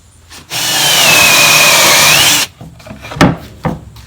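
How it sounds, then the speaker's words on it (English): A thickness planer feeds cherry boards for about two seconds, a loud steady broadband roar with a rising and falling whine, then cuts off, followed by a few sharp knocks and clatters of boards being handled nearby. "we're going to run them through the planer real quick here and get them all the same thickness"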